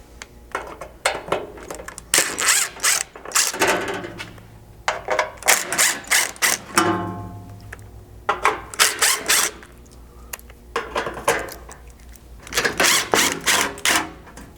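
A ratchet with a T30 Torx bit works the fasteners off a Bronco Sport catalytic converter skid plate, giving repeated close bursts of rapid clicking and whirring separated by short pauses.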